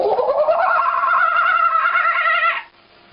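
Human voice imitating a kookaburra call, one long warbling, rising and wavering cry that cuts off sharply, close and loud with nothing else behind it.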